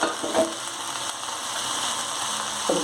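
Chopped onion frying in oil for brinjal palya, a steady close sizzle with faint stirring and light clinks, no talking.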